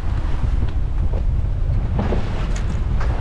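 Strong steady wind, about 15 knots gusting to 20 and blowing off the land, roars over a boat just offshore of Ocean City, a constant loud buffeting rush across the microphone with no voices.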